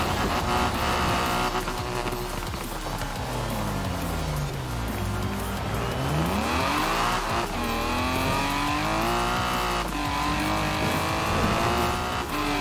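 A race car in the video game Forza Horizon 4 races on a dry surface during a long race. The engine revs loud and constant, rising and falling with gear shifts, and the tires squeal throughout with no pause.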